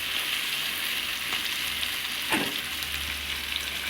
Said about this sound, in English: So I'm gonna saute the seasoning until they are translucent.